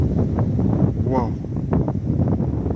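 Heavy wind on the snowy Khakassia steppe blusters close and loud, a constant buffeting rush with a short, wavering voiced sound breaking through early on.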